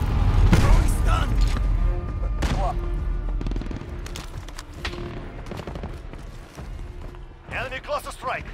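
Gunfire in a Modern Warfare multiplayer match, with loud bursts and booms early on, then scattered shots under in-game voice callouts and other battlefield noise.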